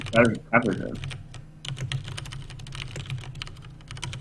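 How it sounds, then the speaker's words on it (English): Keys clatter on a computer keyboard in a rapid, uneven run of light clicks during an online tournament stream, following a brief bit of speech at the start. "Do we think that Handsome Dan has a mechanical keyboard or a regular keyboard?"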